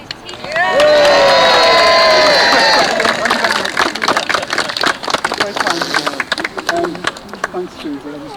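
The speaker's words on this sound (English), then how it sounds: "could we have a huge, great big cheer for Frank, please?" A crowd at a tree planting ceremony in Maghull breaks into loud cheering and whooping, which settles into sustained applause and scattered shouts.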